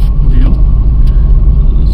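Steady low rumble of a car rolling along a road in hill country, heard from inside the cabin, loud and continuous with road noise filling the whole stretch; a voice speaks faintly beneath it.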